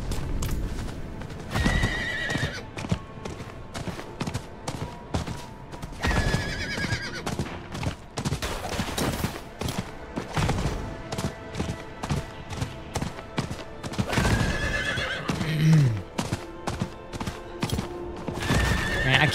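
Hooves clip-clop in a fast, steady galloping rhythm, with a horse whinnying loudly several times; Diablo 4 game action sounds layered throughout.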